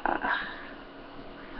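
A dog reacting to other dogs barking, giving a brief whine or yelp at the start and then fading into low, close snuffling sounds.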